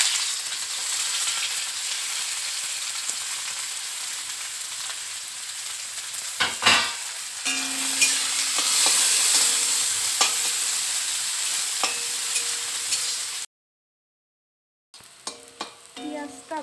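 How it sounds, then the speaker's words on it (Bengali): Onion and green chilli fry in a pan, a close, steady sizzle broken by spatula scrapes and stirring clatter, then a brief silence before a few more stirring knocks. "এই যে আমি এখন পেঁয়াজ আর লঙ্কা ভেজে নিব।"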